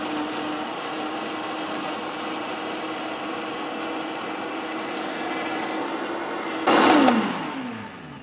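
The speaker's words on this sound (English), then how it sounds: "as you're watching in the Vitamix, you want to blend it until all the particulate is just very small" A Vitamix blender runs at a steady high whir, blending soaked nuts and water into nut milk. The motor holds an even drone, briefly surges louder near the end, then winds down.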